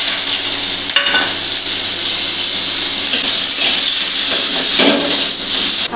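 Chopped onion, garlic and chili sizzle loudly in a small amount of hot oil, a steady close frying hiss that runs without a break, with a brief clink near the start.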